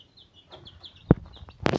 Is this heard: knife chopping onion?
no